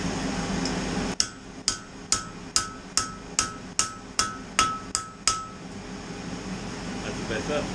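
A hammer rings on metal against an anvil while forging a small fish ornament, with about ten evenly spaced, bright clanging strikes in a steady rhythm, each decaying briefly before the next.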